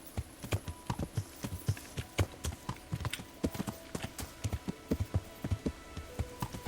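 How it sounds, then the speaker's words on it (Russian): A horse runs along a forest path in Kingdom Come: Deliverance, its hooves striking in a quick, steady clip-clop rhythm that continues throughout, moderately close over a faint ambient background. "Поскачем по тропиночке."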